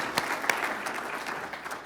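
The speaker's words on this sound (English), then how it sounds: "Y'all please give a round of applause for our conference sponsors." Audience applause at a downtown conference's opening plenary, thanking the sponsors: a short burst of scattered clapping, moderately distant and fairly quiet, with a few sharper individual claps standing out.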